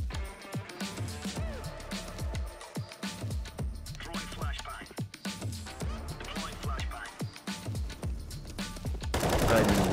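Rapid gunfire in a shooter video game, repeated sharp shots and bursts in a busy rhythm that ends in a loud noisy blast, with no talk.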